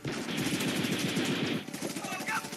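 Rapid machine-gun bursts from a movie trailer playing on a stream, loud and dense, with a voice briefly mixed in near the end.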